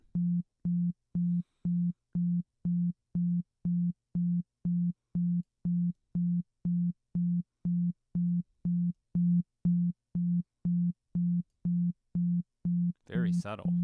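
A synth tone run through a dynamic tube distortion effect, pulsing as a steady series of short, evenly spaced buzzy bursts, ending in a brief noisy burst.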